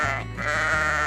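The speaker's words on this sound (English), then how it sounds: "I hear a sheep." A sheep on a farm gives one loud, close, sustained bleat lasting about a second, with a wavering tone and no other sound over it.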